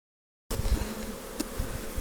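Honeybees buzz at an opened hive holding honey and brood, checked in October; a steady, close insect drone begins after half a second of silence and runs on, with a few soft knocks of handling.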